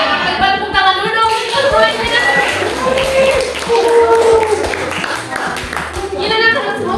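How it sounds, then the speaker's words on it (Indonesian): Children in a classroom clap their hands in a rhythmic pattern, crisp repeated claps mixed with young voices chattering and a teacher speaking over them. "Oke, tepuk tangan dulu dong."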